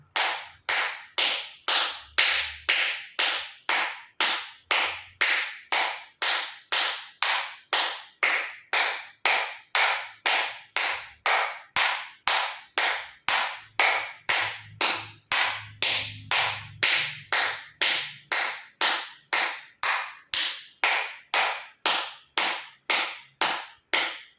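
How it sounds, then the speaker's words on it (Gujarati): Loud, sharp palm claps as a yoga exercise, about fifty in a steady, even rhythm with full palms, fingers and thumbs striking together, close and alone with no talk. "બંને હાથની હથેળી પૂરેપૂરી હથેળી આંગળા અંગૂઠા બધું ટચ થાય રીતે 50 વખત જોર જોરથી તાળી આપીશું."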